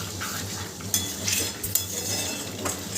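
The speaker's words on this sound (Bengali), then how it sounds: "এইভাবে বারবার নাড়তে থাকবে" A spoon scrapes and clinks against a pan while chicken curry is stirred over a high flame, a few sharp metallic knocks standing out over a soft steady sizzle.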